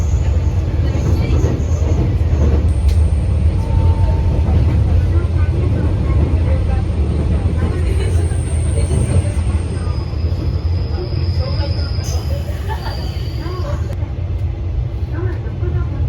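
A JR West Etsumi-hoku Line local train runs on the tracks near Fukui, heard from on board, with a loud steady rumble of wheels and motor throughout. Faint high tones and squeals appear here and there, and no clear voices come through.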